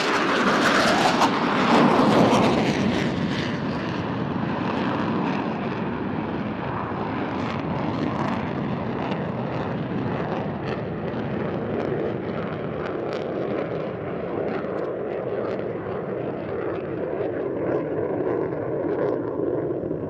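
An F/A-18 Super Hornet fighter jet at an air show roars past with a loud, broad rush that peaks early, then trails off into a long sustained engine drone with wind buffeting.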